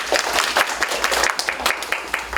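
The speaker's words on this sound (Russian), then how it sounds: "Вам тоже аплодисменты." An audience at a regional children's reading contest in Chuvashia breaks into brief, lively applause; many hands clap close and loud, with individual claps standing out within the quick, uneven patter.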